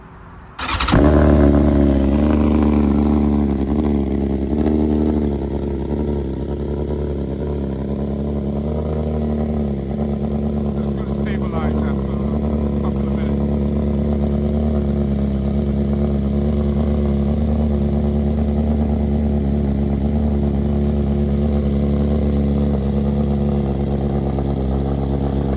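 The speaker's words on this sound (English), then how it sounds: "I'm gonna let it idle. So it kind of, goes up and down a little bit, but then it stabilizes." A 2025 BMW S1000RR sport bike idles close by after a sudden start, with a loud steady engine drone whose rhythm wavers slightly before settling, and no one speaking.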